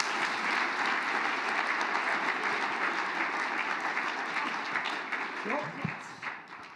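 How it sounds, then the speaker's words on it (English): Applause for keynote speakers at a conference, a roomful of people clapping loudly and steadily, then thinning out as a voice comes in near the end. "Can we give it another round of applause for Robson and all of our keynotes?"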